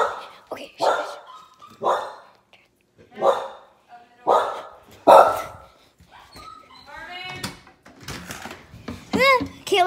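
Several dogs bark loudly and close by in a home, sharp repeated woofs in irregular bursts with whimpering and yips between them, while people talk excitedly.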